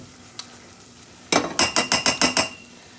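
A butter and flour roux is stirred in a pan, heard as a quick run of about seven rhythmic scraping strokes after a near-silent start. The strokes are close and fairly loud.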